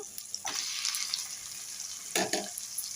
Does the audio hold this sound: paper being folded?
no